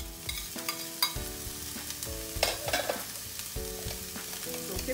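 Chopped carrot and peppers sizzle loudly with onions in a frying pan, with steady close frying hiss and occasional stirring scrapes.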